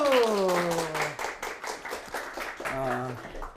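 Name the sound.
audience clapping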